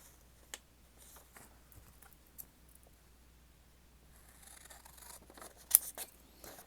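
Scissors cutting paper down for a journal, a few faint isolated snips followed by a denser run of close crisp cuts near the end, quiet room with no talk.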